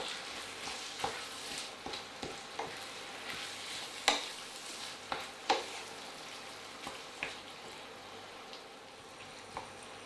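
Two tins of baked beans being stirred into a beef hotpot, with soft wet scraping and a series of spoon knocks against the pot at an irregular pace.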